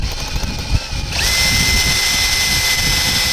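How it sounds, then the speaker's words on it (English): A power drill bores a hole in a catamaran hull. Lower, uneven handling noise comes first, then a steady, loud, high whine runs continuously and cuts off abruptly at the end. "I am about to drill a hole in the boat"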